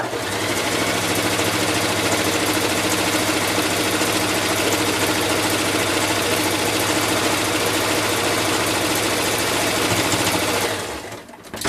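A Kenmore 385 sewing machine runs steadily while stitching a fine decorative leaf pattern, its close, even motor hum and needle chatter continuing without pause before stopping abruptly near the end.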